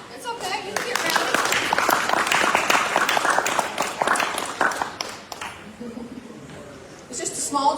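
An audience claps for Gerald at a sober bar morning gathering, a warm burst of many hands applauding close by for several seconds before trailing off, with voices talking briefly near the end.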